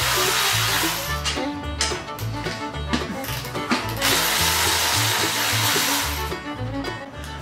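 Power tool whirring in steady, loud bursts while the brake is removed from a 1998 Yamaha V Star 650 motorcycle, the pitch rising and falling as the tool works with short pauses between pulls.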